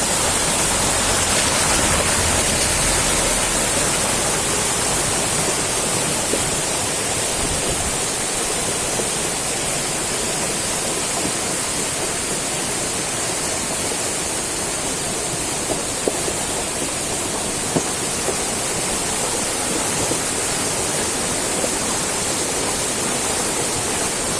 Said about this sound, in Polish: co jakąś chwilę słychać uderzenia. To woda przenosi po dnie ogromne kamienie.